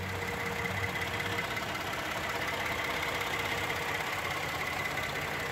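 Twin-turbocharged 3.5 EcoBoost V6 in a 2013 Ford F150 idling under the open hood, a steady close engine hum with faint injector ticking, alone and unbroken.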